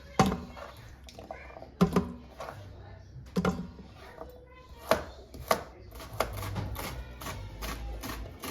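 A knife chops carrots into chunky pieces on a cutting board, giving sharp, irregularly spaced thuds near the mic, with quieter clatter and soft handling noise between cuts.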